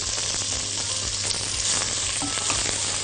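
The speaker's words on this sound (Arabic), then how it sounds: "هننزل البصل دي بصله مفرومه ونديها تشويحه" Minced onion frying in ghee, a loud, constant close-up sizzle with a busy crackle that continues without a break.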